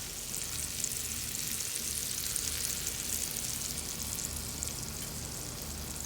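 Scallops sear in a cast iron pan with a dense, even sizzle that holds steady and fairly close throughout, with no voices.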